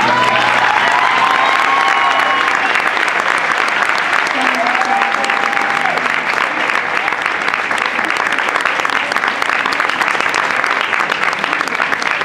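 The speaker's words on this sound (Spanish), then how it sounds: "un aplauso fuerte para ella" An audience at a concert at La Trastienda gives steady, loud applause that stays dense for the whole stretch, with some cheering and scattered voices mixed in.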